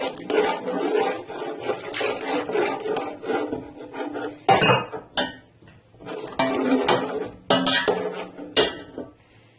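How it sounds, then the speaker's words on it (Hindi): A spoon scrapes and clatters steadily against a pot while lassi is slowly poured into Punjabi kadhi, with loud metallic rasps and knocks in uneven bursts up close and no talking. "तो आपने इसमें लगातार चम्मच चलाना इस तरीके से।"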